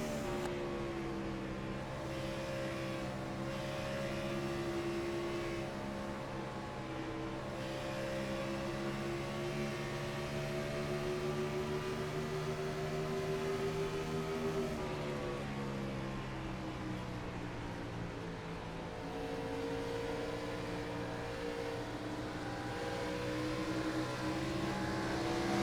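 Race cars on a hot, slippery track roar continuously, with engine pitch climbing and dipping as they throttle out of corners, a layered drone of several cars held at a steady distance.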